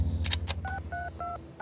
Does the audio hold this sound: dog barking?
no